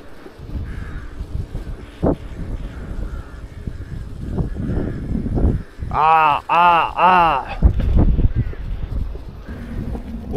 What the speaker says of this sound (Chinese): 这个林子里面全是乌鸦呀。